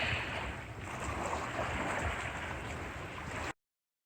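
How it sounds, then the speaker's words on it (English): Strong, gusty wind roars steadily over a whitecapped river at Carolina Beach State Park, buffeting the microphone in a loud, continuous rush before cutting off abruptly. "Wind is really ferocious today."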